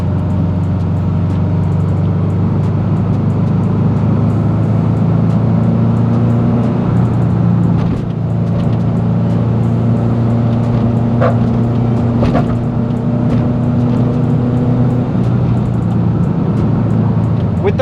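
A 2007 Subaru WRX STI cruises along at steady speed, its engine a constant low drone with road and tire rumble filling the cabin, loud and continuous throughout without any talking.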